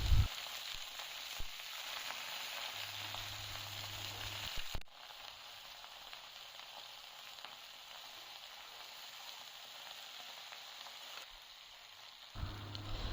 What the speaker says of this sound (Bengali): চিংড়ি মাছটা দিয়ে একটু ভালোভাবে ভাজা হবে।